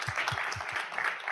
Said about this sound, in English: a huge round of applause to Saba